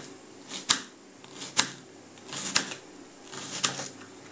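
A knife chops through tomatoes on a board in four sharp, evenly spaced cuts about a second apart, close and crisp with nothing else heard.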